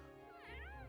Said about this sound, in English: Good morning, Celine. Meow